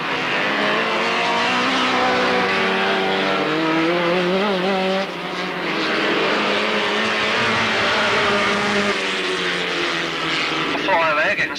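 Midget racing cars pull away together at the start of the third and final race of the afternoon, a loud sustained roar of engines rising and shifting in pitch, with a commentator talking over it throughout.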